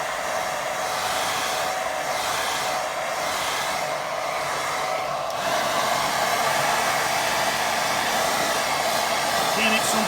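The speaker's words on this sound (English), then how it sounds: "Giving it some power with hairdryer and blowing it that way" A hair dryer blows a steady, loud, continuous roar across a watercolour beach-scene painting to dry it, the airflow shifting slightly midway as the dryer is moved, with no talking.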